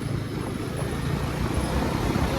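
A motorcycle engine drones steadily while being ridden on a group ride, with a constant loud roar and wind rush throughout and no talking.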